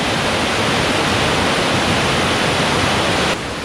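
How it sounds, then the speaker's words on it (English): Loud, steady rushing of a small waterfall spilling beneath an old stone humpback bridge near the Welsh coast, a constant broadband roar heard up close with no voices, dropping slightly in level just before the end. "There seems to be a little waterfall right underneath the bridge"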